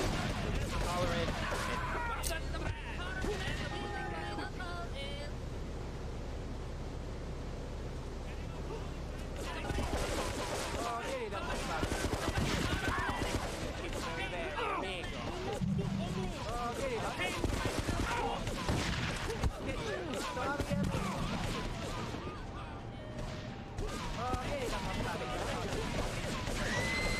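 Gunfire in Grand Theft Auto III: The Definitive Edition crackles in repeated bursts and scattered single shots throughout, mixed with crashes and impacts, while a player talks over the game's noise.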